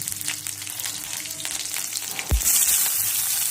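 Green chillies sizzle in hot oil with mustard seeds, cumin and curry leaves for an oats breakfast tempering, a steady close hiss with a sharper burst of crackle near the end.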